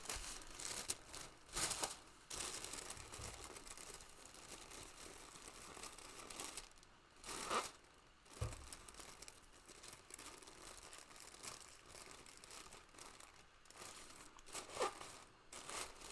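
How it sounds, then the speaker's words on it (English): Paper crinkles and rustles steadily as it is pressed and shaped around a ball, with a continuous soft crackle broken by a few sharper crunches, close and fairly quiet. "we're starting to shape the paper around the ball"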